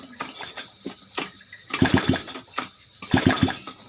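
A Yamaha Jupiter Z motorcycle being kick-started with its clutch set to zero, giving repeated bursts of mechanical clatter and scraping in two main pulses, close and fairly loud with no talk.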